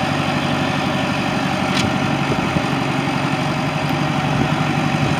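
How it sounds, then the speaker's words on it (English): A John Deere 4-cylinder engine idles on a 1988 Blaw-Knox RW100 machine fitted with a rear broom, a steady close mechanical hum with even vibration and no talking. "John Deere, 4-cylinder engine."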